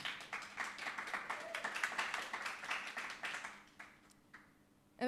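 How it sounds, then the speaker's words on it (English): An audience applauds a panelist at a music industry conference, steady clapping in a room that thins out and fades toward the end, with no talk over it. "A huge round of applause for our first panelist,"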